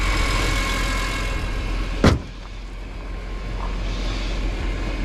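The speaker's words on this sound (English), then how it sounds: "The little induction noise you get on these is pretty cool" A BMW E46 CSL idles steadily with a low, even engine hum and induction noise, broken by one brief sharp click or knock partway through, with no talk over it.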